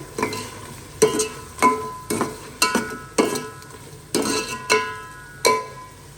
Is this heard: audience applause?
no